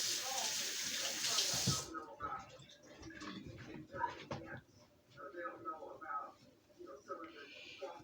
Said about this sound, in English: I'm just going to go ahead and rinse my hand back off.